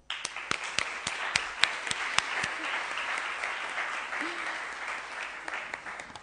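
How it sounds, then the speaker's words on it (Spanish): An audience at a novel presentation in Murcia claps steadily for several seconds, a dense run of hand claps with a few sharper close ones standing out, and a voice faintly underneath. "para quien pido un aplauso"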